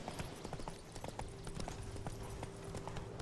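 A horse gallops in The Witcher 3, its hooves hitting in a fast, steady clip-clop rhythm over a dense game soundscape with a faint droning tone, no voices heard.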